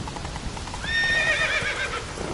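Roach the horse in The Witcher 3 gallops with steady clip-clop hoofbeats, then lets out a loud, bright whinny that rises and trails off over the running hooves.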